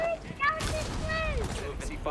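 Gunfire in a shooting video game crackles in a dense burst under game sounds and tonal effects, fairly loud and close, with a voice present in the mix.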